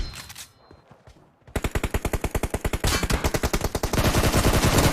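Rapid automatic gunfire in PUBG Mobile during a solo deathmatch: after a quiet opening, loud sustained bursts of evenly spaced shots begin and continue to the end, growing denser and louder near the close.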